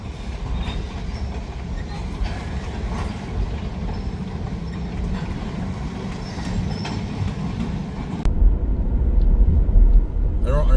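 A freight train rumbles past up close, a steady heavy roll of wagons with faint wheel clatter throughout, growing louder and deeper near the end.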